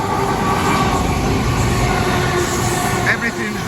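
A London Paddington to Plymouth passenger train passes at Dawlish near Kennaway Tunnel, a steady loud rumble of wheels and rails that continues throughout with no break.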